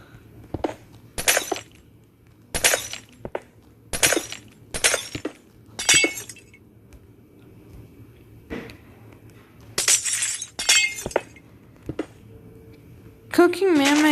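Glass blocks shattering in a Minecraft-style video game world, a string of sharp, bright breaking crashes in quick bursts, some in pairs, against quiet background with a voice at the end.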